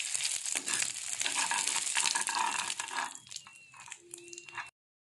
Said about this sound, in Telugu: ఇంత గోంగూరకి మనకి 100 గ్రామ్స్ ఆఫ్ ఎండుమిర్చి ఫ్రై చేసుకోవాలండి ఆయిల్లో